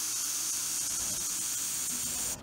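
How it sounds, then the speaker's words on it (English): A steady, continuous disinfectant aerosol spray hisses for about two seconds, then cuts off abruptly, slightly muffled as it is sprayed into a barely open plastic bag. "Take your disinfectant spray and spray it in the bag."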